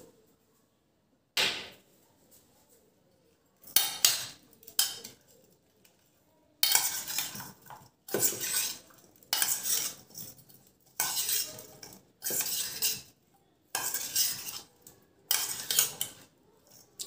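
A spoon mixes chili powder and salt into a pizza topping in a pot, giving repeated bursts of scraping and clinking separated by short pauses, close and moderately loud.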